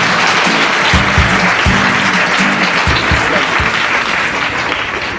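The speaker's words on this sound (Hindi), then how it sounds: "जोरदार तालियां हो जाए प्राची के लिए" Loud, sustained applause from a studio audience on a Hindi quiz show, greeting the fastest-answer winner; steady dense clapping runs the whole stretch, with some sharp individual claps near the front.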